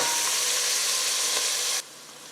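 Vangi bath ingredients fry in a pan with a loud, close, continuous sizzle that holds steady for almost two seconds, then drops abruptly to a much quieter hiss.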